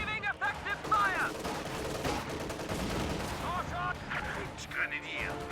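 Rapid gunfire and explosions crackle through a World War II strategy game battle, dense bursts layered with in-game unit voice lines and a commentator talking over the fighting.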